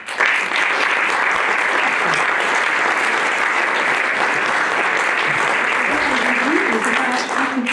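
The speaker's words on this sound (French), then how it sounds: "je vous propose de les applaudir." Loud, sustained applause from the audience at the closing conference of the 2022 Nature & Landscape Biennale fills the whole stretch, dense and steady, with a voice briefly rising over it near the end.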